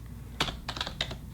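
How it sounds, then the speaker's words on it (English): Typing on a computer keyboard at a router command line, a short burst of four or five quick, close key clicks in an uneven rhythm, fairly quiet with no talking. "I'm going to go ahead and type"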